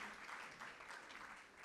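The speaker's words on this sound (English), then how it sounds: "let's give a big round of applause to Dr. Nokugcine Mhlophe." Sustained applause from a crowd at a dinner event honouring Dr Nokugcine Mhlophe with an honorary doctorate at DUT: dense, steady clapping throughout with no break.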